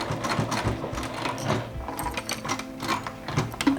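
A hand-cranked sewing machine works through thick material, giving close, rapid mechanical clatter and rhythmic needle thumps that run continuously with slight changes in pace.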